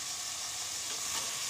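Chicken, cabbage and onion stir-frying in a dry pan with no oil, a steady close hiss with faint scraping running through the whole moment.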